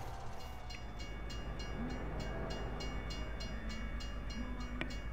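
A train rolls past in Farming Simulator 17: a steady, loud low rumble with evenly spaced rhythmic clacks and a short horn-like tone near the end, with no voices.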